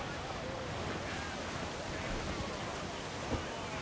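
Ocean waves and wind after a storm in Assassin's Creed 4 Black Flag, a continuous broad wash of surf and gusting air with no distinct breaks.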